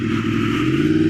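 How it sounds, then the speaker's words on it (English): A 1987 Honda VFR 400 R NC24 motorcycle engine runs with a steady, loud, close mechanical hum and fine rapid pulsing, holding an even pitch alone without talk. "you've just heard the one thing that really is the piece de resistance of the VFR range. The engine."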